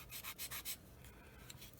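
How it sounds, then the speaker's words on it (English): Four quick abrasive rubbing strokes of a 400-grit sanding stick against a plastic scale model part, close and soft, followed by quieter scattered scraping. "I'm going to use this 400 grit sanding stick"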